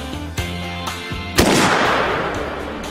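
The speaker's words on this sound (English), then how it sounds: "What they've got is the Springfield 30-06, the oldest caliber rifle on the ground." A Springfield .30-06 rifle fires one sharp, loud shot outdoors, a broadband crack followed by a long, rolling decay, with a few smaller thumps before it.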